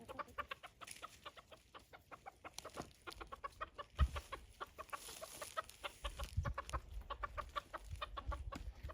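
A flock of backyard chickens clucks busily and continuously, many soft overlapping clucks at a moderate distance with some rustling in the background.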